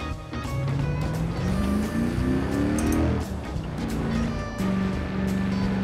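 An older Mercedes in Forza Horizon 4 drives with a steady engine drone, then revs up in rising sweeps through the gears.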